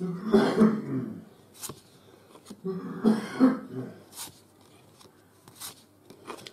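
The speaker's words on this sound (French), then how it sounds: "je sais pas si vous venez d'entendre mon mari tousser" A man coughs and clears his throat in two rough bursts, a short pause between them, followed by a few faint scraping sounds.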